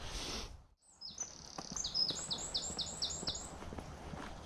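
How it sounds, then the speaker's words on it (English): A robin sings a clear series of bright, rapid, repeated high notes in a run, after a brief muffled rustle, set against faint outdoor background noise. "I think the song we just heard just then was a robin."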